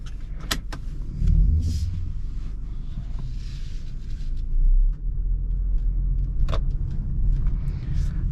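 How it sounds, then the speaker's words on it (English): A 2023 BMW X3 drives along a road, heard from inside the cabin as a steady low rumble with road noise and a few sharp clicks and thumps. "let's go ahead and take this X3 on a test drive"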